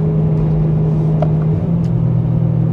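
A BMW M3 E92 GTS race-style car engine revs with a loud, steady, deep exhaust drone close by, broken by a couple of brief crackles, with no talking.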